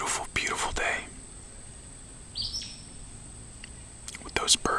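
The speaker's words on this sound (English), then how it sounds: "With those birds chirping and all that." Birds chirp outdoors on a bright day with a brief, thin tweet mid-way, faint beneath soft whispered or hushed speech that comes and goes.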